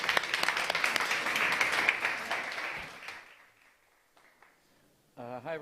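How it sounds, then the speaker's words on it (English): A conference audience applauds a panel on a summit stage, loud clapping that tapers away over about three seconds, followed by near silence and then a voice beginning to speak. "Let's give them a round of applause."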